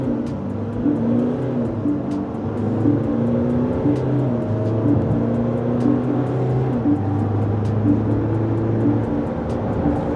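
An MG U9 engine roars steadily with rising and falling harmonic tones, gear-like steps in pitch, during a hard sport-mode launch from standstill, continuous and close.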